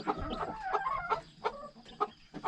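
A hen taken off her nest of five newly hatched chicks and unhatched eggs gives a run of close, repeated clucks and low murmuring calls.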